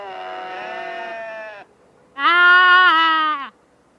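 Two drawn-out sheep bleats, the first wavering and moderately loud, the second stronger and more nasal after a short pause, close and clear with no other sounds around them.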